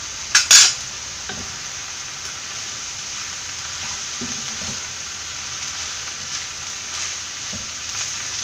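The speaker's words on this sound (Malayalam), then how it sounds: "നന്നായിട്ട് മിക്സ് ചെയ്യാം" Egg noodles are tossed in a hot pan, with a couple of sharp metallic utensil scrapes at the start, then a steady soft sizzle and occasional light stirring clinks, with no talk.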